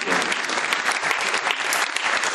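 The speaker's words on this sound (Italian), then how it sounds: "un applauso" A theatre audience at the season presentation of the Salone Margherita in Rome applauds in encouragement, a loud, dense, continuous burst of clapping from many hands.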